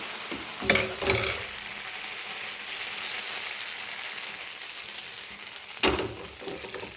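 Thin rice neer dosa batter hitting a hot pan and sizzling, with a couple of sharp pour-and-swirl bursts at the start and again near the end over a steady quieter hiss.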